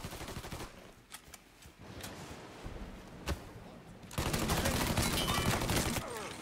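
Machine gun fire in Mafia 3: scattered sharp single shots at first, then a loud sustained rattling burst of rapid automatic fire over the last two seconds.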